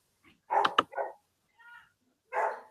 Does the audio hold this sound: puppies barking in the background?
yes